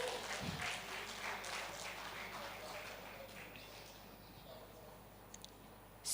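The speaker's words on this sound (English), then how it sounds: "So let's give her a round of applause." A round of applause rises from an audience at a conference, fairly faint and diffuse, tapering off gradually over several seconds.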